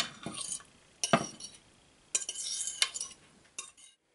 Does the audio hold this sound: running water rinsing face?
no